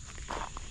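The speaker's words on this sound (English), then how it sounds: "I'm gonna walk out here to the street" Footsteps crunch along the ground, faint and close, as someone walks out toward the street beside a roadside ditch sprayed with a homemade natural weed killer.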